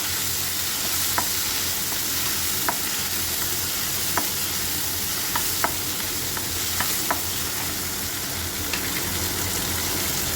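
Okra and tomato sizzle loudly in a pan, with a dense continuous frying hiss broken by occasional light stirring clicks, close up and without speech.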